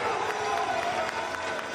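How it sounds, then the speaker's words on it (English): A crowd cheers and claps at an INTENNSE tennis match in the INTENNSE Arena, a dense, steady wash of arena noise with a commentator talking over it. "He's getting the crowd fired up here."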